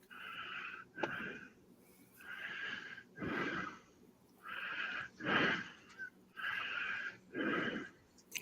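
Heavy, rhythmic breathing right up against the microphone, a man's loud inhales and exhales repeating about every second and a half with short gaps between them.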